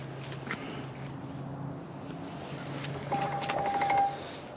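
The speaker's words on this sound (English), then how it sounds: "My phone's ringing." Phone ringing faintly with a short electronic tone that repeats a few times near the end, over a low steady hum inside a tractor shop.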